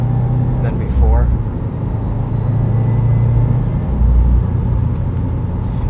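A 2018 Subaru WRX STI engine drones from inside the cabin as the car pulls, a steady low rumble that stays under close conversation throughout.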